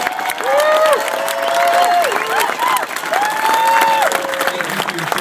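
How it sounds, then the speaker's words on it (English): A crowd at an outdoor protest rally in Arizona applauds and cheers for veterans, sustained clapping with whoops and a few voices calling out over it. "I'd like to get a round of applause for all of our veterans."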